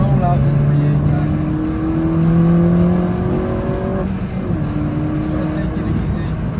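Car lapping Llandow race circuit on a track day, engine droning steadily in a cabin with pitch rising through the gears and dropping on a shift, constant road and wind noise, and a driver talking over it.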